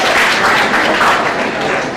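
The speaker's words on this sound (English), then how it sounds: "I give a big round of applause for you." A school audience applauds students finishing their 10th standard at a junior college orientation programme, the dense clapping steady and fairly loud throughout without a break.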